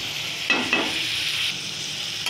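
Vegetables stirred in a pan, a short scraping sizzle with two quick bursts of spatula movement over a soft steady hiss, no talking.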